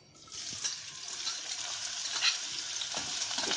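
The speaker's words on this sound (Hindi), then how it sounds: "तेल गर्म हो जाए तो इसमें हम प्याज डालेंगे।" Onions frying in hot oil in a wok, a soft crackling sizzle that swells up after a quiet start and holds steady, close and fairly faint, with a few small pops.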